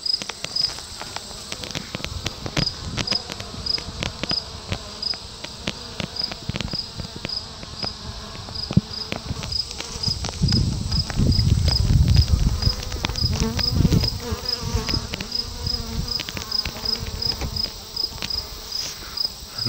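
Steady insect buzzing hums throughout, many bees droning close by as they feed on watermelon set outdoors, with faint outdoor noise and a low rumble swelling midway.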